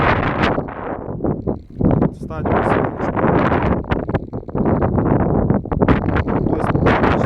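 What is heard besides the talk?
wind blowing at an outdoor air rifle range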